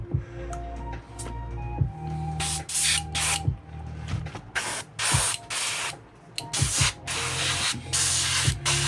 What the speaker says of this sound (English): I'm just spraying through it, and it's just water and soap